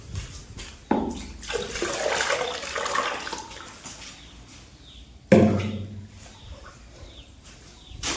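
Water pours and splashes into a bucket of primer for house painting in two bursts, a longer rushing pour followed by a sharper slosh after a pause, close by and unaccompanied by speech.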